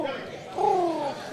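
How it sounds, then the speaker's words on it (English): Pigeons on an island during an outdoor bowls final, a soft low coo rising then gliding down in the second half, heard faintly behind a murmur of background talk. "There are a lot of pigeons over here on the island"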